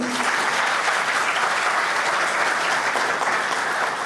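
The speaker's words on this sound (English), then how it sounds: "With a big round of applause." Audience applause welcoming a government minister at the University of Kashmir, a dense steady wash of many hands clapping at once, loud and continuous throughout with no voices on top.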